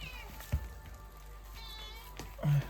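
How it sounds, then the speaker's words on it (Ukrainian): A domestic cat meows in a kitchen while dough for vareniky is being prepared, a couple of short mewing calls with quiet background noise between them. "киця м'якає"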